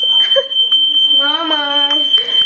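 A smoke alarm set off by popcorn shrieks with a loud, continuous high-pitched tone, close by, while a voice talks over it.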